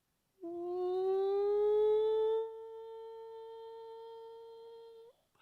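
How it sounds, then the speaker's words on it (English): A siren in an audio drama rises into a high, steady electronic wail, loud at first and then holding at a slightly softer level for several seconds before it cuts off. "Then the siren began."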